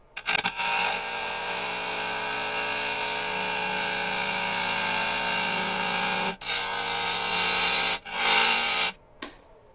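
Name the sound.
saw making thinning cuts in dry box elder burl wood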